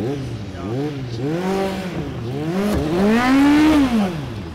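A race car engine is revved while standing still, rising and falling through several close, loud throttle blips over a continuous rumble, with no talking.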